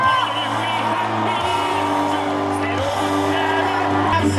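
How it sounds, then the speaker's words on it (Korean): Crowd of supporters at an outdoor presidential campaign rally in Sejong cheering and whooping loudly and steadily throughout, a dense wall of shouts with amplified voices mixed in. "큰 박수 보내주십시오"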